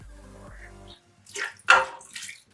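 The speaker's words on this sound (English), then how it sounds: "Toss some water in there." Water splashes briefly into a pot holding chicken drumsticks seasoned with thyme and crushed garlic, two short pours after a moment of quiet, close and fairly loud.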